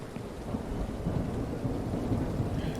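Heavy rain pours with rolling thunder in the horror game Horror Tales: The Beggar, a dense continuous hiss over a deep rumbling storm that stays steady throughout.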